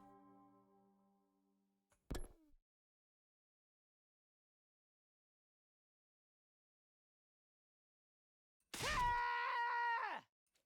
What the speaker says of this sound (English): The scream came from the back of the building.